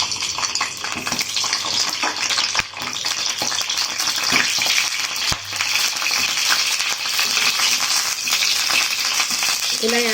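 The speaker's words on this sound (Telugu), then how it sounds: "మనం కడిగి పెట్టుకున్న నిమ్మకాయలు ఇందులో వేసుకుని వేయించుకుందాం." Washed whole lemons sizzle and crackle in a pan with a teaspoon of oil, a continuous close frying hiss with occasional stirring clatters, for lemon pickle.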